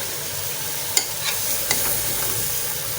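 Chappan tinda masala cooks on a full flame with a constant close sizzle, marked by a few brief stirring scrapes early on.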